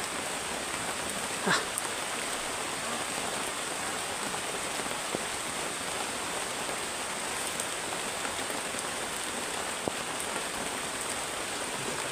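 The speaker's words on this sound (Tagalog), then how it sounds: "Umulan pa guys." Steady rain falls outdoors in a dense, even hiss that lasts the whole stretch, with an occasional nearer drip or patter standing out faintly.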